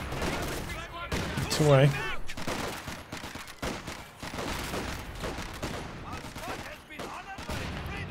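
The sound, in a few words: machine gun fire in video game Company of Heroes 2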